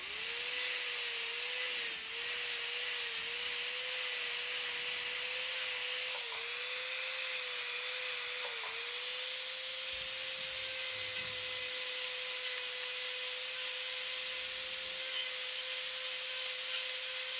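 Close grinding and scraping as a temporary dental crown is trimmed with a steady-pitched whining rotary tool, the shaving sound fluctuating in bursts over the continuous drill tone.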